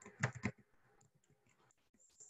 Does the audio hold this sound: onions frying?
no